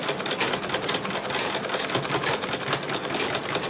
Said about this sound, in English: Remember, we are sewing the front pocket to the back, to the top bag.